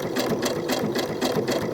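A sewing machine stitches t-shirt fabric for doll clothes, a close, rapid mechanical chatter pulsing in quick, even bursts.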